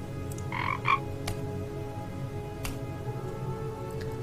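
Frog croaking in the Dark Parables game, The Swan Princess bonus chapter, with a few short croaks close together near the start over a steady ambient background, then a couple of brief clicks.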